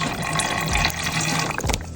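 Water poured into a marinade mixture of Worcestershire sauce, apple cider vinegar and lemon juice for party wing drumettes, making a steady, close splashing trickle for about two seconds.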